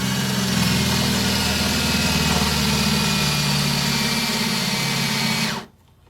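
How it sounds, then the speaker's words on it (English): A power drill whines steadily and loudly for several seconds drilling out a bolt on a 2014-2018 Chevy Silverado 1500, then stops abruptly, leaving near silence. "Go ahead and drill it out."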